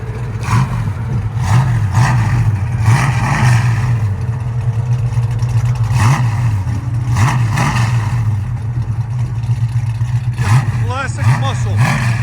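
A 500hp 1972 Ford Mustang Mach 1 with a 410 stroker V8, headers and Hooker exhaust idles with a deep, loud burble and is blipped in several sharp revs, with voices speaking nearby.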